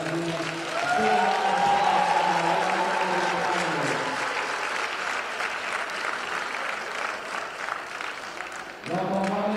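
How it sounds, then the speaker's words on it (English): An audience at a youth lead climbing national championship final claps in sustained applause for the young winners, loud and steady for several seconds and then tapering, with a voice over a PA at the start and again at the end. "Une grosse main d'applaudissements pour nos jeunes vainqueurs canadiens."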